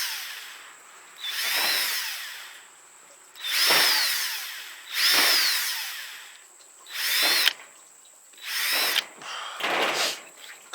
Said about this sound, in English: we're going to drill some holes all the way around here using a small bit